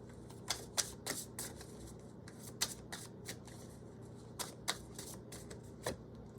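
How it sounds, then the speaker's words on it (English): Oracle cards shuffled by hand, a quiet run of crisp riffling flicks and soft card slaps repeating in uneven bursts, close by with no talking. "let's go ahead and look at a life purpose oracle card"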